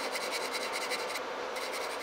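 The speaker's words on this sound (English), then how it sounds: "And you just make a circular motion around the part, and it creates a nice, smooth, even sanding." Close-up, steady rasping of sandpaper rubbed over putty on a model locomotive in quick, even strokes, with a brief pause near the middle.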